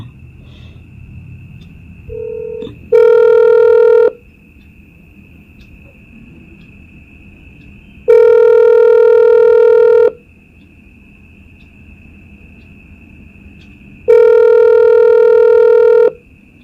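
Telephone keypad tones sound as a call is dialed: three long, loud, steady electronic beeps at regular intervals, one short tone before them, and a faint constant tone between them.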